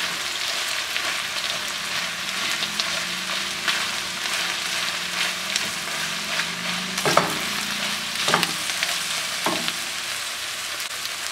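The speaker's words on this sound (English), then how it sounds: "I'm chopping up the ground beef so it's not large chunks." Ground beef sizzles and fries in a pan on a stovetop burner while a utensil breaks it into smaller chunks, giving steady close frying crackle with a few sharper scraping and chopping knocks.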